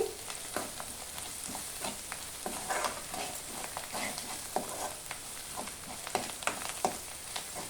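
Onions and drumstick leaves sizzle softly in a pan for an egg and drumstick leaf stir-fry, with a steady frying hiss and light, irregular scraping taps from stirring, fairly quiet and close.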